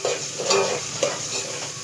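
A vaghar (tempering) sizzling in a pan, a loud continuous frying hiss with a couple of brief stirring scrapes.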